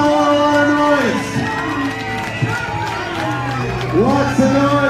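Crowd at a strongman competition shouting and cheering while an announcer talks over them, loud and close with bursts of whoops.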